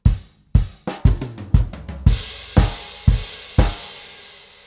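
A drum kit plays two bars, bars 31 and 32, of a song as a Grade 3 rock drum exercise: about nine sharp, close kick and snare hits in a steady, slightly syncopated rhythm, ringing out alone with no talking.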